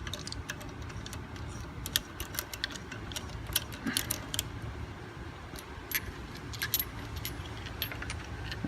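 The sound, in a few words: keys jangling as key is put down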